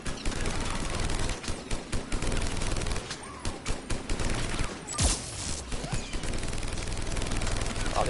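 An over-the-top gun in Mass Effect fires rapidly and close, with loud, fast strings of shots in repeated pulses and only brief gaps.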